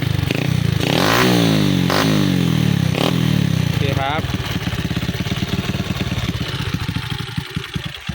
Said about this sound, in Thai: นี่ครับฟังเสียงเครื่อง มีเสียงคัดสามก้อนนิดๆนะครับ